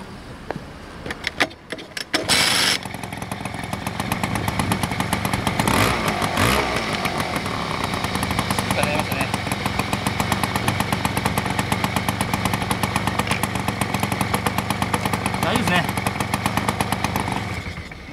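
A Suzuki V100 motorcycle, recovering from a breakdown, is kick-started with a few quick thumps before its engine catches and settles into a steady, buzzing, rapid-firing run that carries on loud and close to the end.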